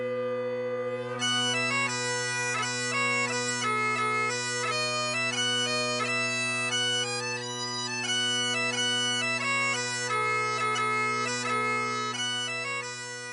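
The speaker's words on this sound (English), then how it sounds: "the bagpipes are a musical instrument made up of a bag with several tubes coming out of it" Scottish bagpipes play a sustained tune over steady low drones, the chanter melody moving in clear, evenly stepped notes, loud and continuous without any talk.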